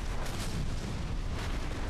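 A large building explodes in the video game Turning Point: Fall of Liberty, a dense, continuous roar of booming blasts that stays loud and full for about two seconds, with no voices.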